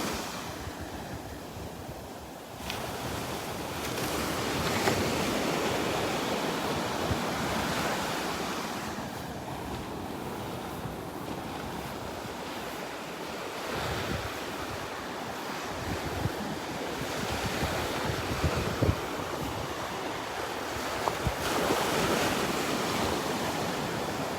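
Gulf beach surf at Delnor-Wiggins on an outgoing tide, waves breaking and washing ashore in a broad continuous roar with swelling surges, wind rumbling across the microphone and no talk.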